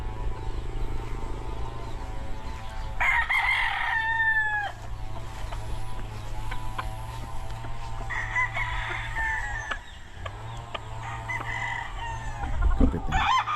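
Chickens clucking and a rooster crowing at a barn for chicks, with two long crows rising over steady background hum and faint clucks, fairly close, no speech.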